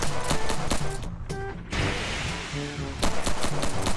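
Rapid bursts of gunfire in a VR shooting game with a Glock, loud, close and rhythmic, with a brief lull in the middle before the shots resume.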